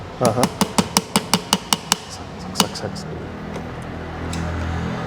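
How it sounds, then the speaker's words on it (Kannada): A pin is hammered into a Juki DDL 7000A industrial sewing machine during assembly, about a dozen sharp, evenly spaced metal strikes close by, then a last stray tap as background noise continues. "ಲಾಸ್ಟ್ ಪಿನ್ ಇಲ್ಲಿ ಹೊಡಿತಾ ಇದ್ದೀವಿ ಥ್ರೆಡ್ ಗೈಡ್ ಮಾಡೋದಕ್ಕೆ"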